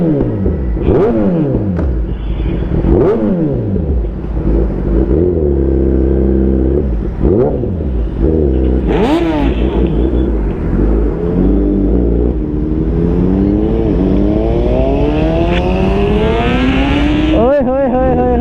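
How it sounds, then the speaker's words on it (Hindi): A Kawasaki ZX6R with an aftermarket exhaust revs hard and repeatedly, loud and close, engine pitch sweeping up and falling back in a long series of throttle blips, with excited voices over it. "रेव कर करके यहाँ पे सबको इकट्ठा कर दिया एकदम से"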